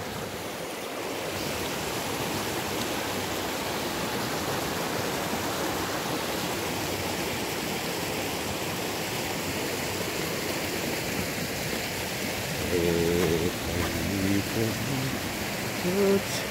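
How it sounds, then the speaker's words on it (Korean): A clear stream flows through a snowy mountain valley in Bonghwa, North Gyeongsang, producing a steady, broad rushing of water throughout, with a brief faint voice late in the clip. "시냇물이 흐르는데"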